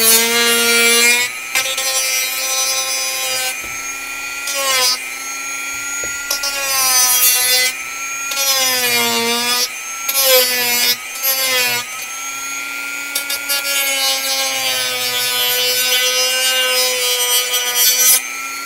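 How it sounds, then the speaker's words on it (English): A Dremel rotary tool grinds a part in a workshop, a loud, close, high whine with shifting pitch that cuts in and out in short bursts over a long stretch. "probably not necessary, but I'm going to use the Dremel"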